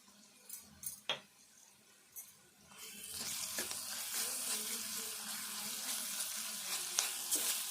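Ginger garlic paste sizzles in a hot pan for a tomato and brinjal curry, a few soft clinks at first, then a steady, fairly close frying hiss swells up and holds with light stirring scrapes.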